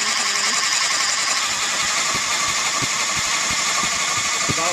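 A 1995 Suzuki Sidekick engine with a freshly rebuilt head runs steadily at close range, a dense continuous mechanical drone with faint irregular ticks, no one talking over it.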